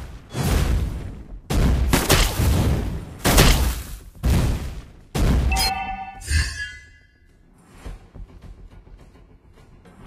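Clint firing in the Mobile Legends game, a series of five heavy gunshot bursts in a regular rhythm, then a ringing metallic impact and a quieter, crackling tail.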